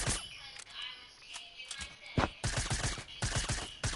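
Scattered gunfire from a video game pops in uneven bursts, some sharp close shots standing out after a quieter, muffled stretch at the start.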